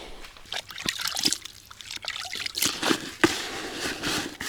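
Water trickles and splashes as it is poured into fishing groundbait being mixed for crucian carp feeder fishing, with a few sharper splashes and sloshes, close and fairly quiet throughout.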